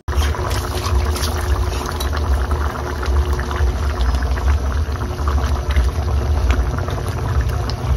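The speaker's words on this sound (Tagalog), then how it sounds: "Hayaan lang muna natin kumulo ng kumulo para lumambot yung karne niya." Chicken curry creamy soup bubbles hard in a pot, a dense continuous rolling boil with constant popping and frothy churning, loud and close, no voices.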